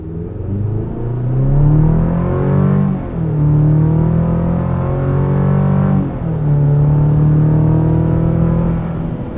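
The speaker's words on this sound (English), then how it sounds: "Let's do a quick 0 to 60. We'll leave it in 2-wheel drive." A 2024 Chevrolet Colorado ZR2 pickup with a 2.7-liter engine accelerating hard from a standstill in two-wheel drive, engine note climbing through gears with distinct rev drops at each shift, loud and close from inside the cab.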